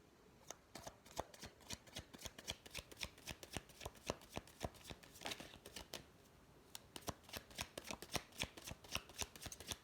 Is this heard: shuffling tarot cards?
yes